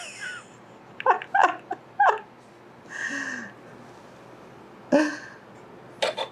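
Pet dog making short whimpering and yipping sounds, several brief high-pitched whines in quick bursts with pauses between, close by in a quiet room.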